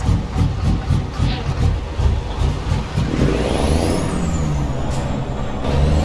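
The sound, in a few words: truck engine long loping idle, American Truck Simulator video game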